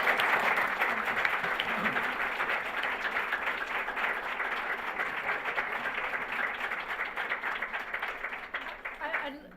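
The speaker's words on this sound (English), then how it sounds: "Let's give a big round of applause to our candidates." Sustained applause from a large audience at a school district candidate forum, steady dense clapping that carries on for several seconds before beginning to thin out near the end.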